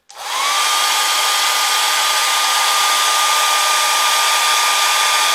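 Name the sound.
small hair dryer blowing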